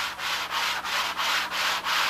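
Sanding block rubbed back and forth on a model Spitfire part, six steady rasping strokes in even rhythm, close and loud with brief dips between strokes and no voices.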